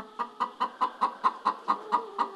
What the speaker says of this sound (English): And now you can hear that a hen has just laid an egg.